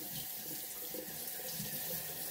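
Hot water runs steadily from a kitchen sink faucet into a stainless steel sink, a faint continuous splashing hiss with no pauses and no voices.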